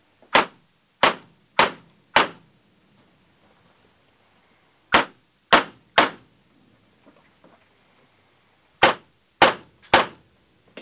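Pistol shots at a police shooting training session, ten sharp, loud cracks fired in quick groups of four, three and three, with short silent pauses between the bursts.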